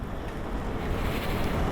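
Strong, steady wind buffeting the microphone while riding a motor scooter in poor weather, a continuous loud broadband roar with no speech.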